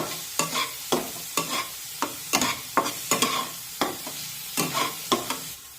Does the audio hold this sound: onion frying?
yes